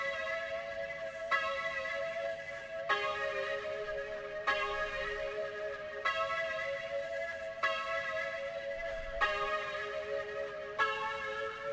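Sustained synth pad layered with a Combo Breaker key in a trap-style melody, repeating chords that shift roughly every one and a half seconds, steady and moderately loud with no voices.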